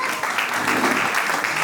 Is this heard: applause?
yes